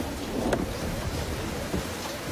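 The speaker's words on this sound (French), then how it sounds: "Le vent souffle beaucoup trop fort." Strong wind roars steadily in a dense, unbroken rush of noise, with low rumbling gusts swelling briefly.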